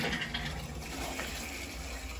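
Water rushes steadily through a hose while a zone of a two-zone gas boiler is purged, giving a loud, continuous gushing hiss with no voices.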